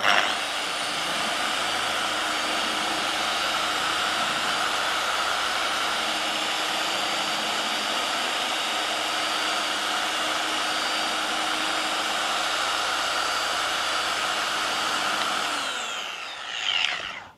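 A dual action car polisher runs in DA mode on a car's paintwork, a loud, steady whirring drone held for about sixteen seconds before it winds down and stops.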